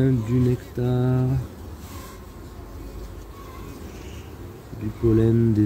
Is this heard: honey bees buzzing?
yes